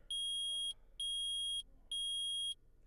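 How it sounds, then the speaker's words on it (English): Three evenly spaced electronic beeps from a metal detector in the video game Phoenix Wright: Ace Attorney, each a sustained high tone lasting about half a second with short gaps, loud and clean over a faint hum. "Yup, we gonna hear it beep."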